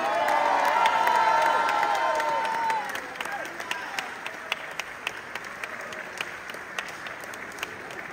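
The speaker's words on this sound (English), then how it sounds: "A great round of applause for our new president-elect" A large assembly crowd applauds a new president-elect at the SKAL General Assembly 2022 in Croatia, a dense roar of clapping with cheers that thins after a few seconds into scattered, lingering claps.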